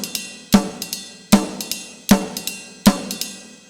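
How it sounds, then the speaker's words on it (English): A drum kit plays a typical jazz swing ride cymbal pattern, with four strong accented hits backed by low thumps and lighter skip notes between them, steady and close. "he's not playing a typical jazz swing ride pattern"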